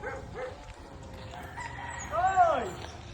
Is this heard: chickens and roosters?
yes